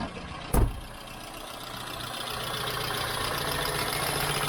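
A Peugeot 106 engine with an upgraded fuel feed cranks into life with a brief loud burst, then settles into a steady, fairly close idle hum.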